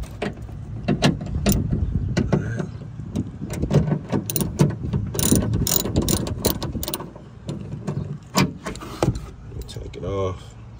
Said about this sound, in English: there's gonna be just one 10mm bolt that you got to take out to loosen it up